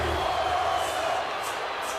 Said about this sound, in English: Jordynne Grace in the crowd again, cheering, chanting for Asuka